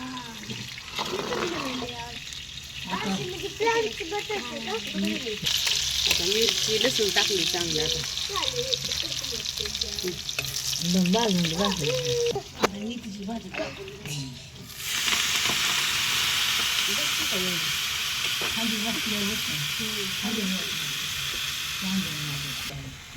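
Green chilies frying in oil in a home kitchen pan, a steady loud sizzle running throughout with stirring sounds, while people talk over it for most of the clip.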